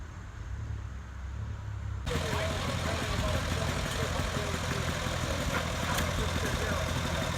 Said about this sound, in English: Is a hit and miss motor right here.